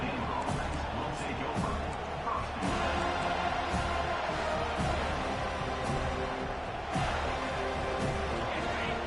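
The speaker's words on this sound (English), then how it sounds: "This crowd bringing the energy and noise early." A large stadium crowd at a college American football game roars and cheers continuously in the distance, with a commentator's voice talking over the noise.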